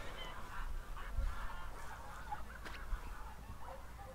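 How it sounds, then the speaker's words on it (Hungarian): Geese honk repeatedly in a loose, overlapping chorus at moderate distance, with a low background rumble throughout. "Libagágogás? Mi ez?"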